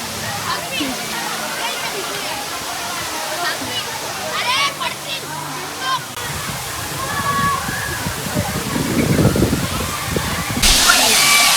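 A waterfall at a former stone quarry, a steady rushing roar of falling water that swells louder partway through, with people talking over it.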